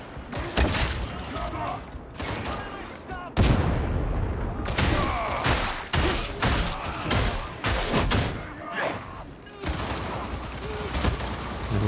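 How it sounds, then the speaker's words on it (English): A grenade blast amid heavy gunfire in Warhammer 40k: Darktide, loud, with rapid shots and booms piling up, a voice speaking over the chaos. "Oh, grenade."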